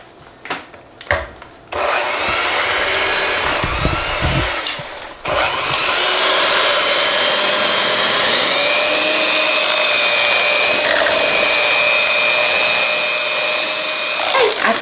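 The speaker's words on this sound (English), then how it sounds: "And I'm going to mix it up again." An electric hand mixer whirs through mashed potatoes with half and half, starting after a few knocks and rattles and then running as a loud, steady motor whine with scraping texture that holds to the end.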